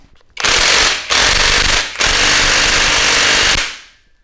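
An impact wrench tightens the big triple clamp bolt on a trail motorcycle built with a Suzuki Satria FU engine, firing in three loud, close, rattling bursts with short gaps between them.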